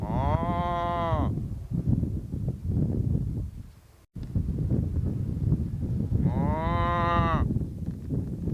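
A mother cow and calf on the San Juan Islands give two long, clear moos several seconds apart, with steady wind rumble outdoors between them.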